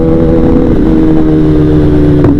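A big-bike motorcycle rolls slowly along an unfamiliar road, its engine a steady, loud, close drone with a slight rise in pitch near the end and no one talking.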